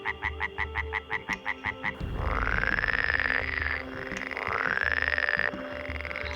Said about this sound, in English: And frogs make a variety of noises.